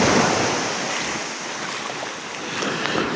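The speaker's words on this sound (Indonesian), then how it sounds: "tiba-tiba ombak besar" Big ocean waves surge and wash ashore at Virgin Beach in Karangasem, Bali, a steady close roar of surf with wind noise, swelling slightly toward the end with no voices.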